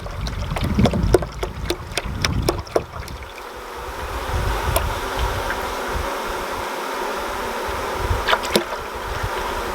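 Honey bees buzz inside a hive as two litres of 1:1 sugar syrup is poured in, a close, steady insect hum with a few knocks and pouring rustle, no talking.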